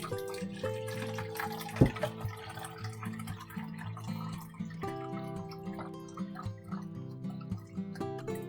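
Beef broth pours into a measuring cup in a home kitchen, a soft steady trickle of liquid that rises gently in tone as the cup fills, heard close and fairly quiet over faint background hum.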